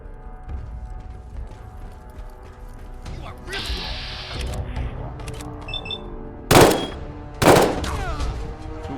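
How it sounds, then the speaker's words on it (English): A burst-fire weapon with a hardened burst fire receiver shoots in a video game amid mechanical clatter and clicks, building to two loud, sharp bursts near the end, with a voice talking throughout. "It fires bursts, huh? Is this a burst weapon?"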